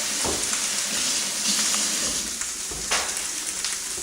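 Italian sausage sizzles in a hot pan, a loud, continuous frying hiss with a few brief clicks and pops of movement, no voices.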